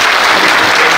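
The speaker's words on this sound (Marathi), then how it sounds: "टाळ्या वाजवून" An audience at a kirtan religious gathering bursts into dense, continuous clapping, a loud, even wash of many hands for the full second with no voices rising above it.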